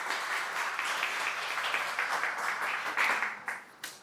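An audience at a panel discussion applauds to welcome a speaker, with dense, sustained clapping from many hands that fades toward the end.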